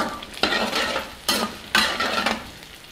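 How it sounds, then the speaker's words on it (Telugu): Small pre-boiled potatoes stir-fried with onions in a pan for a simple Telugu potato fry, with a steady sizzle broken by several sharp scraping stirs of a spatula against the metal, close and clear, no voices. "ముందుగా ఉడికించి పెట్టుకున్న చిన్న బంగాళదుంపల్ని ఇందులో వేసుకుందాం. వీటిని కూడా బాగా వేయించుకుందాం"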